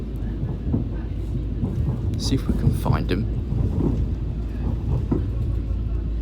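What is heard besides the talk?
train waiting at railway junction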